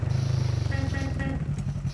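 A vehicle engine drives in Call of Duty multiplayer: a steady, throbbing low motor hum at close range with a gear-like rise partway through, lasting about two seconds.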